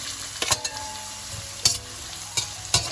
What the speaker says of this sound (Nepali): यसलाई 1 मिनेट जस्तो फ्राई गरेपछि अब यसमा मैले गाजर राख्दैछु